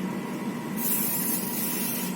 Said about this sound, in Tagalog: spray mo lang siya sa loob